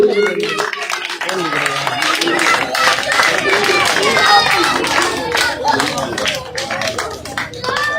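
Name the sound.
crowd clapping at political rally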